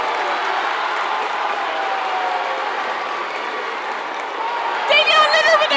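A crowd cheering at a high school basketball county championship game after a dunk, a loud, steady roar of many voices filling the gym, with a commentator talking over it and a sharp whistle near the end.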